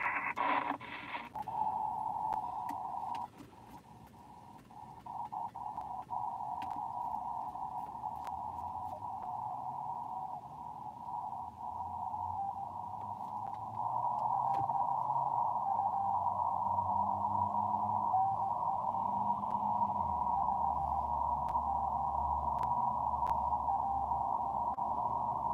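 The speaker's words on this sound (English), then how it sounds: "That was Morse code that you were hearing there." A Morse code signal received on an amateur radio on the 30-meter band, a steady continuous tone over static that sends a string of numbers, running without pause for about twenty-five seconds.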